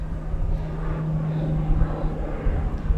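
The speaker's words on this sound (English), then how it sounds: "planes are just ruining it. We don't typically have planes flying over here" A propeller airplane drones overhead above planted cornfields and an oak-covered slope, a steady low engine hum with a faint tonal whine, moderately loud and continuous with no talking.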